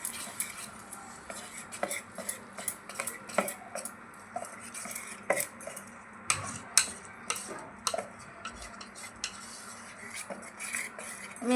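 Snack ingredients mixed with white sesame seeds in a bowl: rapid clicking and tapping of a utensil against the bowl, with busy irregular clatter that stays close and moderately loud and has no talking.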